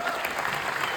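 A large audience at a company celebration in Shanmukhananda Hall breaks into loud, dense applause for the company founder, a steady wash of clapping filling the hall.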